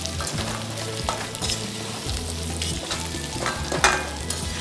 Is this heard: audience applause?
no